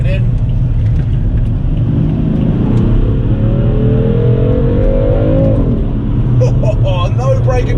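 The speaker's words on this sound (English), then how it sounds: "I need to make a video of the sounds that this car produces off a stock exhaust system." A BMW M3 engine with stock exhaust idles and revs up in a sustained rising drone, loud and close, with people talking over it.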